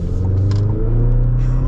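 A 2023 GMC Canyon AT4 pickup accelerating, its engine a steady low rumble heard from inside the cab, loud and continuous for a moment with faint voice-like sounds over it.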